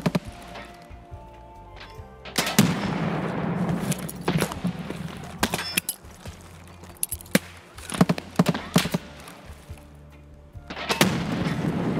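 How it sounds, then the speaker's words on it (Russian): A bot fires in Escape from Tarkov: loud close gunshots and short bursts crack out irregularly, some echoing away. Quieter stretches between them carry faint movement. "Бот по нему стреляет."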